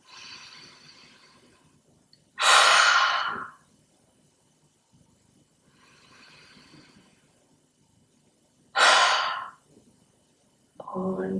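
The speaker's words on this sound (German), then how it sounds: "dann durch den Mund ausatmen" Two strong exhales through the mouth during calm yoga breathing, each a loud breathy burst of about a second, separated by quieter nasal inhales, with a softer breath starting at the end.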